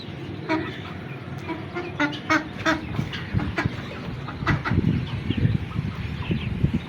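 Chickens on a goat farm cluck and squawk in short, irregular bursts, some close and some farther off, over a soft outdoor background with no talking.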